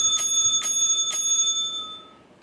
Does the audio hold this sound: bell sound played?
yes